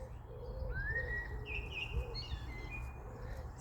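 Birds call in a Scottish graveyard at High Blantyre, with a rising whistle, short chirps and soft cooing over a low, steady outdoor rumble. The calls are moderately close and no one speaks.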